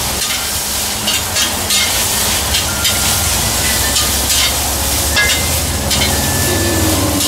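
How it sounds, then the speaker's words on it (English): Loud, continuous sizzling of chicken frying in a hot wok, a steady hissing crackle with occasional scraping from stirring. "You can hear it sizzling."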